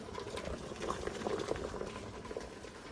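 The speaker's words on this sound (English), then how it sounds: "We're going to pot of boiling salted water here." A pot of salted water at a rolling boil for pasta, steady bubbling and gurgling with a dense, continuous hiss, close by and fairly quiet.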